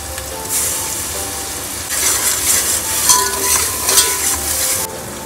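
Ginger garlic paste hits browned onions frying in a pan for street-style pav bhaji, a close, continuous sizzle that swells as a spoon stirs and scrapes through it.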